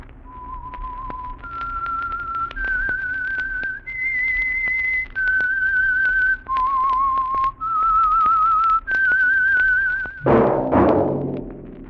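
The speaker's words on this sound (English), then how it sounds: "That whistle is your signal for the Signal Oil Program, The Whistler." A lone whistler carries a slow, eerie melody of sustained, slightly wavering notes as the theme signal of The Whistler radio suspense program, each note clean and close, ending in a brief orchestral swell.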